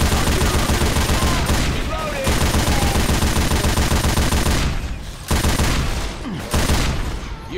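Rapid, dense gunfire from the zombie shooter Left 4 Dead 2 fills the scene, loud and nearly continuous. It breaks off briefly a few times, and faint voices and game sounds come through underneath.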